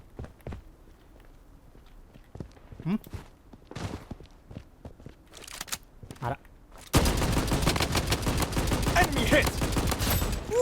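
Gunfire in the shooter video game BloodStrike begins partway through as a dense, loud burst of rapid automatic shots. Quiet footsteps and scattered clicks come before it, with a voice talking in the early part.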